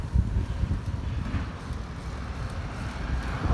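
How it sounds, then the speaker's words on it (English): Gusty wind buffets the microphone on a bike ride, producing a low rumbling roar that swells and eases across the whole stretch with no talking. "It's windy today,"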